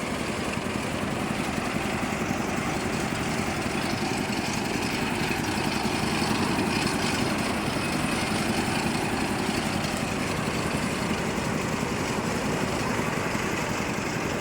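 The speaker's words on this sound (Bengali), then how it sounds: "দেখুন কীভাবে তুলো নেওয়া হচ্ছে দাদা। একদম পুরাতন তুলোকে নতুন করে দেওয়া হচ্ছে।" An old Japanese machine for refreshing old cotton runs continuously, a loud, dense mechanical roar that holds steady with no pauses for the whole stretch.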